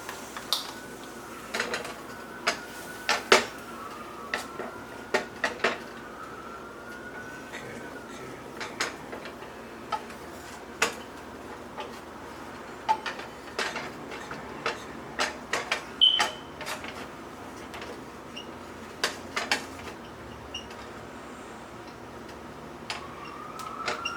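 A utensil scrapes against a pan while it is deglazed during cooking of a vegan chopped cheez dish, giving repeated short sharp scraping clicks spaced irregularly over quiet background.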